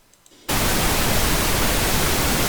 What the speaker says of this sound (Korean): 핑크 노이즈는 이렇습니다.